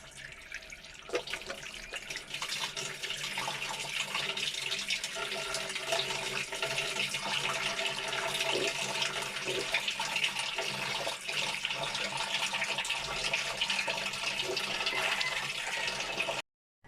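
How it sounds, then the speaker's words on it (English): Hands washed with liquid soap under a running tap, a steady broadband rush of water lasting about fifteen seconds before stopping abruptly, with no talk. "now after washing our hands"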